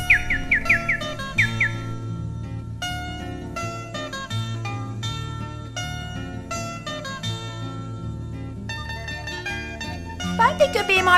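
Short bird chirps and tweets ring out at the start and again near the end over steady background music.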